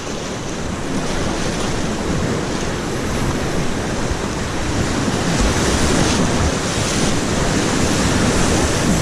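Waves surging around a paddling crew during an outdoor racecourse training run, heard as a loud, continuous rushing wash mixed with heavy wind buffeting on the microphone, with no voices.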